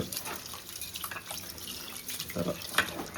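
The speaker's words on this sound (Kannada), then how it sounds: "ಇದನ್ನ ಕುಡಿಯೋ ನೀರಲ್ಲಿ 1-2 ಲೋಟ ನೀರು ಬಿಟ್ಕೊಂಡು ಸ್ವಲ್ಪ ಚೆನ್ನಾಗಿ ತೊಳೆದು ಬಿಡ್ಬೇಕು" Water splashes and swishes in a bowl, with dripping and small pours as rice grains are rinsed close up in drinking water.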